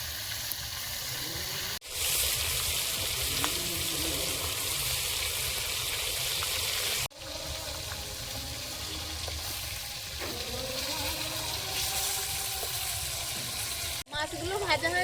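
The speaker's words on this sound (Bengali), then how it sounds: "মাছগুলো ভাজা হয়েছে" Fish fries in hot oil with a steady, loud, close sizzle that runs throughout, broken by a few brief shifts as the pieces are stirred or moved, with faint voices in the background.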